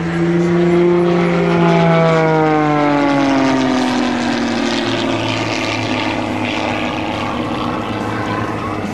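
A propeller aerobatic airplane at the Bealeton Flying Circus airshow snarls loudly overhead, engine pitch sweeping downward as it flies snap rolls at the top of a loop and then fades slightly into a steady drone.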